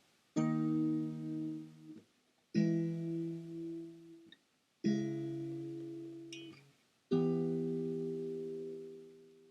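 Four guitar chords ring out one after another, each picked and left to sustain for about two seconds before the next, quiet and close.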